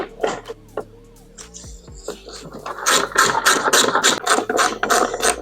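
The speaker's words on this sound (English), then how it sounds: "We're going to go ahead and remove these two 10 mils." A ratchet works loose 10 mm bolts holding the taillight on a Fiat 500, starting with sparse clicks and then settling into rapid, close, repeated ratcheting over a low background hum.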